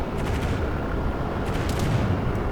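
Heavy guns of the Kirov heavy cruiser firing in World of Warships, a thick rumbling barrage of booms rolling continuously, loud and close, with no voices.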